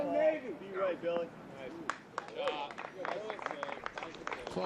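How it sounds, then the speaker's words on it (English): A golf gallery at the PGA Championship gives light, scattered applause, which sits under a commentator's voice. "Applause from the gallery"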